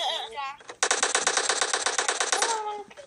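Rapid automatic gunfire from PUBG Mobile rattles out in a loud, continuous burst of evenly spaced shots lasting nearly two seconds, with a player's voice heard briefly just before and after.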